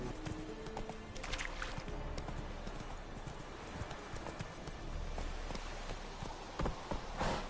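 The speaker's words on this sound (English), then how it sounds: "Look at my horse. My horse is amazing." Horse hooves clip-clop at a steady walking rhythm in The Witcher 3, close and fairly loud over game ambience, with a faint snort or whinny.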